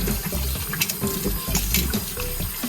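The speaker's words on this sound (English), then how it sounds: "So we're gonna wash it thoroughly again, maybe 2 or 3 times." Chicken feet rinsed and washed in water for a Trinidadian soup, with steady splashing and running-tap noise close by, sloshing in uneven bursts throughout and no talk.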